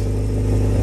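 A Honda Civic engine with a newly reinstalled transmission idles and revs steadily at close range, a continuous loud mechanical drone.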